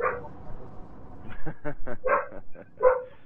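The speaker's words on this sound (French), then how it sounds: "Il aboie un peu de temps en temps." A pet guard dog barks in a short burst of several sharp, fairly close woofs, with a faint muffled voice or noise before the first bark.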